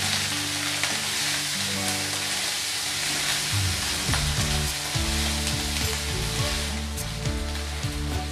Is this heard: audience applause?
no